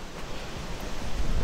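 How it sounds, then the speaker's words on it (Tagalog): Steady, loud rushing wind buffets the microphone in broad, roaring gusts at the My Son Sanctuary ruins in Vietnam, with no voices present. "Lakas ng hangin."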